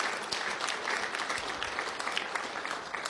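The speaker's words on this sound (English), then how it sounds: "that's worthy of a round of applause for both Rodney" An audience at a members meeting gives a steady round of applause, dense overlapping claps at an even level for a few seconds.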